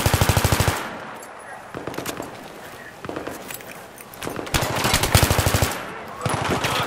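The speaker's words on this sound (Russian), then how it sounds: "а что за снайпер что ли стреляет, не могу понять" Gunfire in a competitive online shooter match, eight versus eight, with rapid automatic bursts and sharp single shots cracking at varying distances, some loud and close, others fainter, mixed with game ambience and scattered footsteps.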